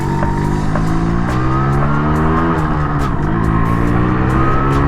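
Yamaha RX-135 five-speed two-stroke 135cc motorcycle ridden hard, its engine note rising and falling in a steady loud buzz with a dip near the U-turn, mixed with wind rush, and no talk.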